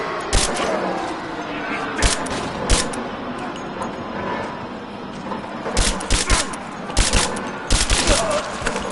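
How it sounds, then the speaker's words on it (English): Gunfire rings out in the video game Rise of the Tomb Raider on PS5: scattered loud shots and short bursts, some clustered in rapid volleys, over game background noise. "Taking fire!"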